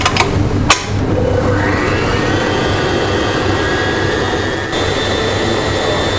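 Loud, steady whirring drone of an electric mixer whipping egg whites at medium speed for a chocolate pie in a restaurant kitchen, starting after a couple of knocks and running continuously, close up.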